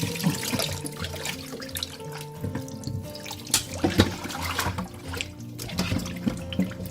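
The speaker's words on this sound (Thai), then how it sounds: "เราล้างนะจนกว่าน้ำจะใสค่ะ" Tilapia being rinsed in water until it runs clear, with steady splashing and trickling close by, irregular sloshes rising and falling over a faint tonal background, no voices.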